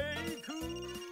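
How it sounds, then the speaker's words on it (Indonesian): Telephone ringing in the video game Another Code Recollection, a soft electronic warbling ring in bursts of rising and falling tones, faint and close, with no talk over it. "Oh, bentar, ada telepon."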